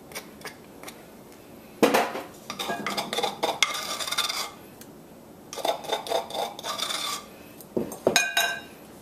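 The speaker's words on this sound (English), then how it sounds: "all I'm going to do is scrape that into the bowl here" Blended Caribbean-style guacamole scraped from a container into a bowl, with close scraping and clinking of utensil against the dish in uneven bursts and short pauses between strokes.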